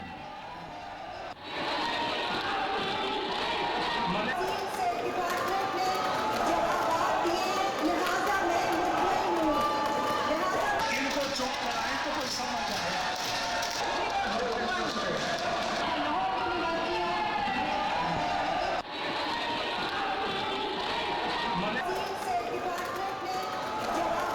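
Opposition members in the Punjab Assembly chamber chant and shout slogans, a loud, continuous roar of many voices with rhythmic bursts that barely lets up over its full length.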